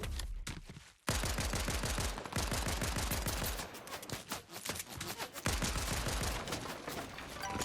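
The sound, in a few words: minigun firing in Fortnite Bed Wars video game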